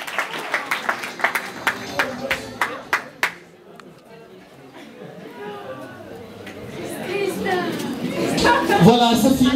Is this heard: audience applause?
yes